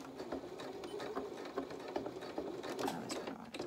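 A sewing machine stitches the edge of a small doll's polka dot dress, a close rapid mechanical chatter of needle strokes and gear clatter running steadily throughout with no talking.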